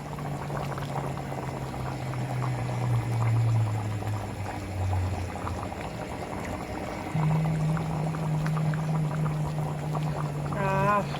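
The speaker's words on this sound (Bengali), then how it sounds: "এই যে আলুর দমটা ফুটে গেছে।" Aloo dum, a potato curry, bubbles at a steady boil in a pot at home, a continuous close simmering hiss with a low hum running underneath and no talking.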